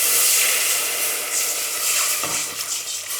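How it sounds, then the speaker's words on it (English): Chicken stock pours into a pan of hot garlic for a chicken and risoni soup, setting off a loud, close hiss and sizzle that surges and then settles, with a brief splashy burst midway and no voices. "Now we're going to add our stock."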